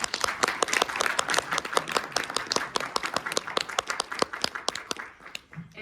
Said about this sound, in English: can we please give our speakers a huge round of applause?